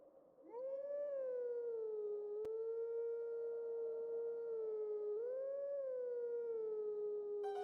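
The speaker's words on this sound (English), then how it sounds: "I will then howl the Snow Peak song and be allowed to move on." In the video game Twilight Princess, Wolf Link howls the Snow Peak song as two long, loud, sustained tonal howls, each swelling upward at the start before settling into a held, slowly falling pitch, with nothing else audible.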